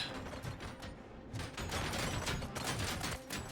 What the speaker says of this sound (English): They're shooting so bad. I'm hearing it behind my back.